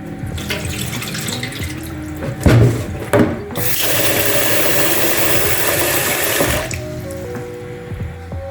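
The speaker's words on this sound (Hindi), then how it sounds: "चावलों को धो लेते हैं 3 बार।" Rice being rinsed under a running tap in a kitchen sink while preparing chicken biryani: water splashing and swirling, then a strong steady gush for about three seconds before it stops, with faint background hum.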